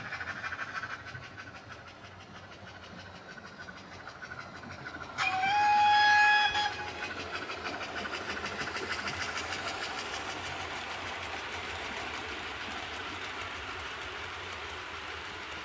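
A model train rumbles steadily past on a layout with a continuous rolling roar, and a loud two-tone whistle sounds briefly near the start before the rumble carries on alone.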